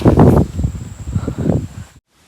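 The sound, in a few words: strong wind blowing at forest campsite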